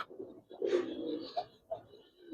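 Giribaz racer pigeons coo inside a loft, a close, throaty burst followed by a few shorter gurgling calls in quick succession, with no speech.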